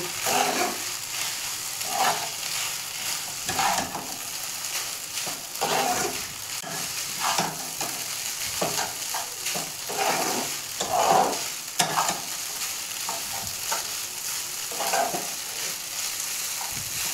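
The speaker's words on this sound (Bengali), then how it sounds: "টমেটো সসটা দিয়ে আমি ভালো করে আবারও মিশিয়ে নিব।" Maggi noodles mixed with tomato sauce are stirred in a frying pan, a steady sizzle running throughout with repeated scraping strokes of the spoon at a slow, regular rhythm, close and fairly quiet.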